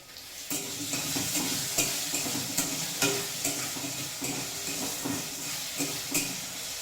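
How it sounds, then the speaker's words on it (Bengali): Hot oil sizzles and crackles steadily in a kadai wok while spices are stirred in, a continuous frying hiss with recurring soft clinks and scrapes of the spoon against the metal pan, close and fairly loud throughout. "এবার চলে আসে এই কড়াইতে তেল গরম হয়ে গেছে"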